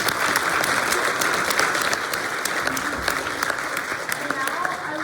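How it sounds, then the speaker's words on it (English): An audience at a TechOlympics 2025 student showcase applauds steadily, a dense continuous clapping from a large indoor crowd that carries on for several seconds, with a voice speaking over it. "Could we have one more round of applause for them?"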